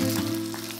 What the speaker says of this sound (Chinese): 用中小火把底部煎到香酥